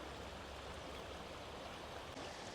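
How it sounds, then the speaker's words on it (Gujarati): Water flows steadily behind a resort on a morning, an even, continuous rushing wash with no breaks, fairly faint and heard alone. "એવું મસ્ત પાણી વહે છે"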